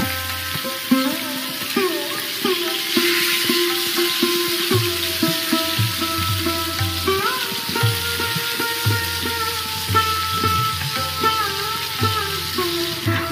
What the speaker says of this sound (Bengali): মাছগুলোর একটা দিক ভাজা হয়ে গিয়েছে, এবার এক এক করে উল্টে দিচ্ছি